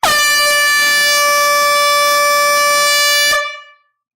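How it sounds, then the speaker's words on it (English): A single loud, sustained blast of an air horn at a live vinyl record sale, held for over three seconds before cutting off abruptly. "As always, time for the air horn."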